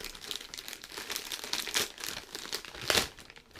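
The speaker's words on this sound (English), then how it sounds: "I'm going to open these parcels" Parcel packaging crinkles and crumples as it is torn open, a close, irregular run of rustling bursts with a sharper rip near the end.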